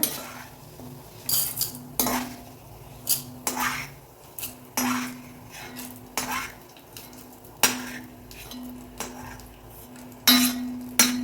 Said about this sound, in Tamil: பாருங்கள், இந்த அளவுக்கு நல்லா பொரிஞ்சால் போதும். கரகரன்னு சவுண்டு கேட்குது பாருங்கள்.